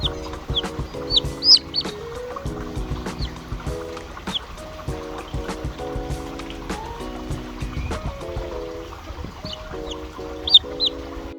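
Chickens cluck and chatter near and far in a garden over a steady hum and harmonic drone, with occasional sharper bird calls rising above.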